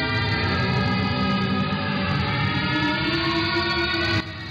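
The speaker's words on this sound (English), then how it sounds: "That sounds like some ghost wailing." Eerie sustained wailing tone from an analog horror video game's fear test, layered pitches droning steadily and loudly for about four seconds before stopping abruptly.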